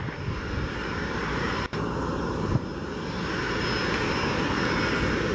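Steady, loud jet engine roar from a Gulfstream III at an airport, a continuous broadband rumble holding for several seconds with a brief dropout midway.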